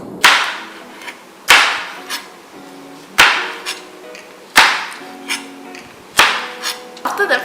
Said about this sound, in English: So you cut the ends of the French bean, and then you slice them diagonally.